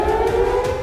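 Air raid sirens sound in Israel during missile alerts, a loud, steady wailing tone held throughout a brief moment with no talking.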